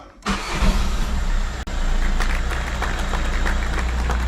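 Skoda Octavia diesel engine cranks and catches, then settles into a loud, steady idle with a brief dip partway through; no talking.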